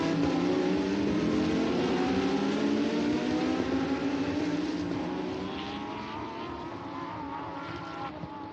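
Lamborghini Super Trofeo race cars at Portimao run over a brow toward the turn 5 hairpin, several engines wailing loudly together with rising and falling pitch, fading slightly as they pass.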